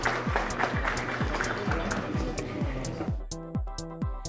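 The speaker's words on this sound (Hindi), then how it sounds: "तालियां प्लीज, हो जाए तालियां" An audience at a formal welcome event claps briskly over a pounding rhythmic music beat; the applause dies away after about three seconds, leaving the thumping music alone.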